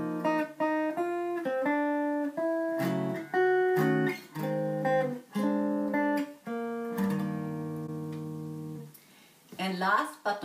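Jazz electric guitar plays a single-note melody over a chromatically descending ii–V progression. Clear plucked notes in short phrases fill the passage, with a quick flurry at the end.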